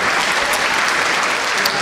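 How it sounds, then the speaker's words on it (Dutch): An audience at a school closing event applauds steadily, a dense, even wash of many hands clapping throughout with no break. "Een applaus."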